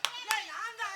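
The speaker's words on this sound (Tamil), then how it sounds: "கைதட்டுங்க கைதட்டுங்க கைதட்டு கைதட்டுங்க." A couple of sharp hand claps ring out during a Tamil stage performance, with a voice talking over them.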